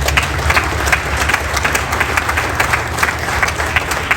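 An audience applauds city councilors at a groundbreaking ceremony in Noblesville, Indiana, producing loud, continuous crowd clapping that holds steady with no talking for about four seconds.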